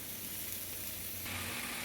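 Spinach and bok choy sizzle with sauce in a hot pan, a soft, continuous, close hiss and crackle that brightens slightly partway through, with no talk.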